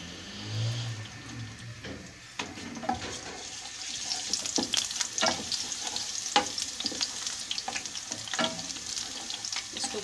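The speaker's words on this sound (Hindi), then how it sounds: "इसमें हमने जो लहसुन चॉप किया वो डाल देंगे।" Chopped garlic hits hot oil and starts sizzling, crackling steadily with occasional stirring clinks, close up.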